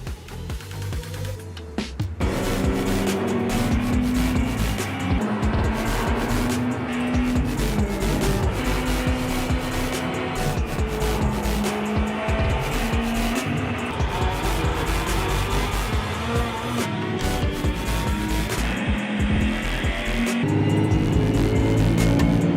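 Race cars roar around the Indianapolis oval in the iRacing sim, a continuous loud engine drone with shifting pitch as cars pass and layered machines overlap, running steadily without any talk.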